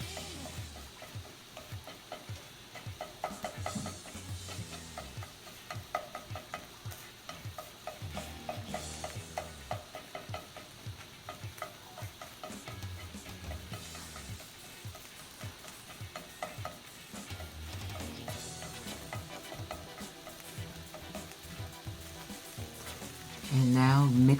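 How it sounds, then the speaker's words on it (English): Egg and cauliflower rice are stirred and fried together in a pan with a constant soft sizzle under repeated scraping of a utensil, all close up, with a louder thud at the end. "continue to stir that around until the egg is cooked"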